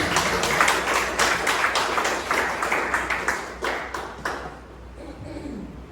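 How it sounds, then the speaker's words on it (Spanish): A church congregation claps in praise, a dense burst of applause with some rhythmic unison claps that thins and fades toward the end, followed by faint voices. "Denle ese aplauso al Señor."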